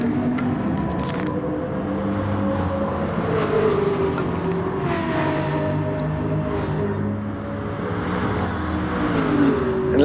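Aston Martin race car in a racing game at Suzuka, its engine held near maximum revs with a steady whining drone that rises and falls slightly as gears and speed shift, constant and loud throughout.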